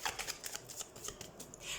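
Tarot cards are handled and shuffled, giving a quick series of soft, crisp card flicks and riffles at close range, faint overall.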